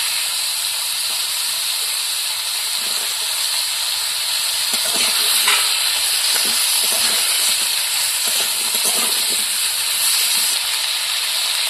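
Green chilies and chopped tomato hit hot oil in a frying pan, raising a loud, steady, hissing sizzle that runs throughout, with a few faint stirring scrapes mid-way; no talking.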